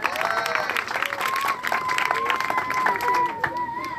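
Scattered clapping from an audience at an outdoor kite festival, light and somewhat distant, mixed with crowd murmur and overlapping voices and a high whistle-like tone.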